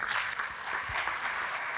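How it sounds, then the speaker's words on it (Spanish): Brief, soft clapping from a conference audience applauding panel guests. The sound stays fairly distant and even for a moment. "acompáñenme en darles un gran abrazo a estos maravillosos palenques"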